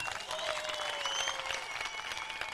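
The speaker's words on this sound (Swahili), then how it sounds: "mpigie waziri makofi kwa hiyo" A crowd at a gathering applauds a government minister with steady, dense clapping that holds at an even level throughout, with no voices standing out.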